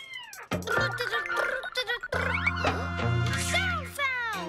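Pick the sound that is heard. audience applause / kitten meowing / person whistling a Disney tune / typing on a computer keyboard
kitten meowing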